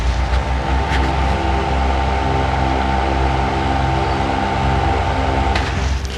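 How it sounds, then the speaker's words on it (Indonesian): Sekai HFN 1210 industrial fan running on speed 3, a steady loud whoosh of blown air over a faint constant motor hum, with a few light knocks, close and continuous. "Jadi ini cukup senyap motornya, tapi yang kenceng adalah hembusan si kipasnya."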